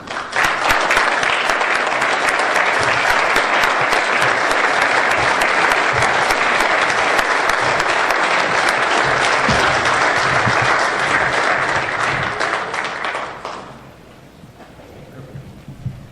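An audience claps in sustained, loud applause to welcome Dr. Tom Coburn for a keynote address at the Growth and Opportunity Summit, a steady roar of hands that fades out near the end, leaving quiet room tone.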